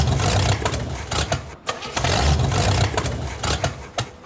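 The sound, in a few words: hot rod engines starting up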